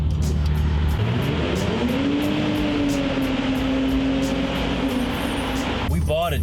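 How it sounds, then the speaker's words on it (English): Exhaust of an Audi A5 3.2 FSI Multitronic with an aftermarket center exhaust, a loud steady engine drone with a rising and falling tone, heard up close on the street, with a brief voice at the end. "just have a little hint on how the exhaust sounds"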